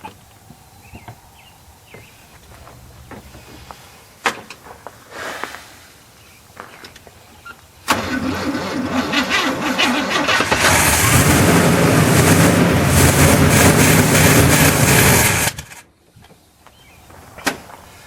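A 1981 square body truck that sat in a field for 25 years has its engine cranked and catch. A loud, rough run lasts about eight seconds before it cuts off abruptly, with quieter clunks and handling noises before it.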